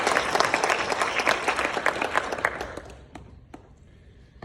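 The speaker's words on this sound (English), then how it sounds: "let me ask for a round of applause for this" A lecture hall audience applauds at a university philosophy lecture, dense clapping for about three seconds that thins to a few scattered claps and fades out.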